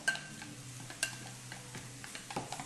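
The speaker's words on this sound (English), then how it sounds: "So you mix and you blend." A utensil mixes yogurt and cucumber in a bowl, making soft, faint scraping and clinking with a few sharper taps, close by, with no voices.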